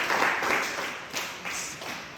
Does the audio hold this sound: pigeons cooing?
no